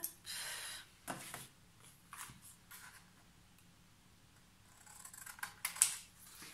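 Scissors snip the corners of paper for a handmade baptism album, a few short, quiet crisp cuts spaced apart in a still room.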